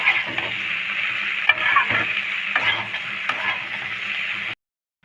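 Eggplant and banana pieces sizzle and fry in a pan while being stirred, with scraping strokes over steady crackling heard up close for about four and a half seconds before falling silent.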